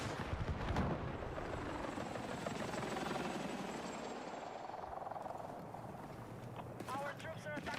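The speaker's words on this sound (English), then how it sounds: "Enemy helo!" An enemy helicopter in a video game thrums with steady rotor chop against battle noise, swelling and then easing, while a voice speaks over it.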